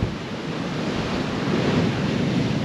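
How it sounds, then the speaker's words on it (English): Large surf rolling onto a sandy beach at Tunstall on England's east coast, a continuous loud wash of breaking waves mixed with wind noise, with no talking. "the bloody size of these waves coming in are just"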